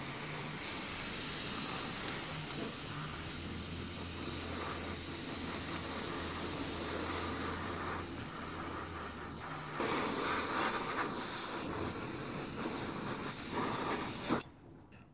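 Airbrush spraying Citadel Mornfang Brown paint onto a model M4A3 Sherman Calliope tank, a steady close hiss that runs for about fourteen seconds before cutting off abruptly.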